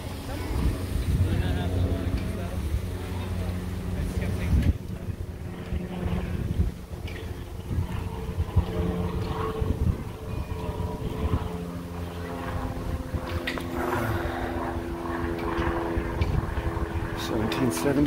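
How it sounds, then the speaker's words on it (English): Wind gusts outdoors on a street walk in San Luis Obispo, California, a steady rushing low rumble buffeting the microphone throughout, with someone talking over it. "A little bit windy right here, the wind's kind of coming through this."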